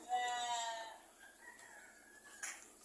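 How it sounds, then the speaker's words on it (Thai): Male goats and sheep in a fattening shed bleat: one loud, wavering bleat comes first, then fainter, thinner calls follow in the background of the barn. "โรงนี้เฉพาะตัวผู้ ทั้งแพะทั้งแกะ"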